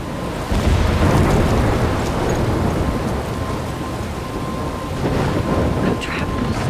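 Thunderstorm in the Life is Strange video game, loud rolling thunder over continuous heavy rain, a sustained rumbling roar that swells early and holds through the clip.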